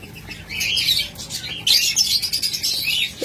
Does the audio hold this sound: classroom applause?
no